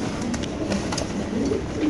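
Lahori pigeons coo softly in a loft, low murmuring calls repeating under a constant background hiss, with no clear wing flaps.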